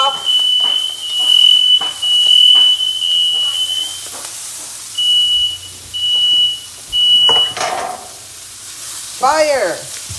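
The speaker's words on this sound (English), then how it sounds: "Supper's almost ready when the fire alarm goes off." A high electronic smoke alarm beeps in repeated bursts over cabbage and Brussels sprouts sizzling in a pan, with people speaking at intervals.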